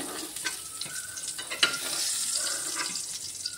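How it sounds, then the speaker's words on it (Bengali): Soft sizzle of vegetables frying in oil with salt and turmeric, with scraping stirs and light clinks throughout. "দেখো একটু লবণ আর হলুদ দিয়ে আমি ভেজে নিলাম।"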